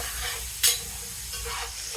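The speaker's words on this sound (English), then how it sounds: "You see it sizzle." Browning gratin stirred in a pot with water during Cajun pastalaya cooking, a steady bright sizzle with a sharp scrape of the spoon partway through and softer stirring scrapes after, no talk.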